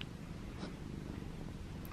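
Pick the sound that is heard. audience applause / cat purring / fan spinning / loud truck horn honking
cat purring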